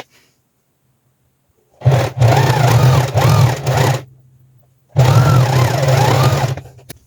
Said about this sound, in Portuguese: Vou passar uma costura na parte aqui de cima